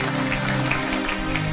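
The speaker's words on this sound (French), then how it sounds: "Acclamez pour la gloire d'Éternel notre Dieu" A church congregation claps together in steady, dense applause that fills the whole stretch, loud and close with a crowd feel.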